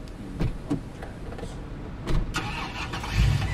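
A patrol car engine starts up in the Police Simulator video game, with a short crank and a low idle rumble rising near the end, plus a few mechanical clicks and thumps earlier.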